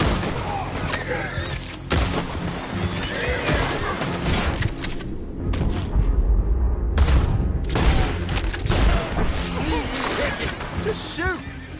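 Gunfire in Red Dead Redemption 2 during a violent standoff, with repeated loud sharp shots and bursts scattered throughout, mixed with crashes and game sounds under shouting voices.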